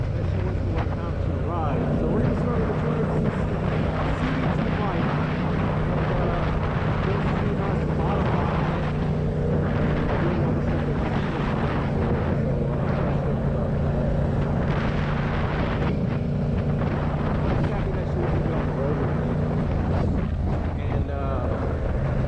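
A Venom X18r 200cc motorcycle being ridden, its steady engine drone running continuously beneath heavy wind buffeting on the microphone.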